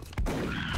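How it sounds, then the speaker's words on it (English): Single shotgun blast in XCOM Long War, a sharp loud crack followed by a short rumbling tail. "Oh, shotguns are so satisfying"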